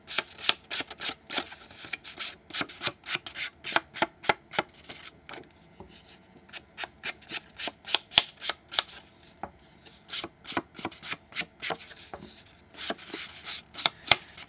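Edges of cardstock paper tags, some watercolor-painted, are scraped with a distressing tool in quick repeated rasping strokes that come in close, steady bursts with brief pauses.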